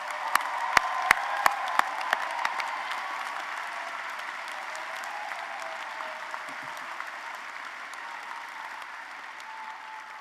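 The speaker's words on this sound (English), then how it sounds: "Let's have a round of applause" Arena crowd applauding graduates at the Spring 2023 Tickle College of Engineering commencement, a broad sustained roar of clapping with a few loud, sharp close claps early on, continuing steadily throughout.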